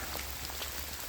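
Steady rain falls outdoors, a dense even patter of drops hitting surfaces close by, with no talking.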